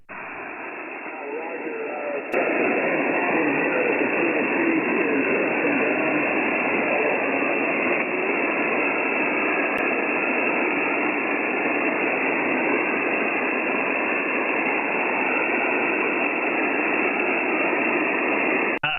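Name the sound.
ham radio static noise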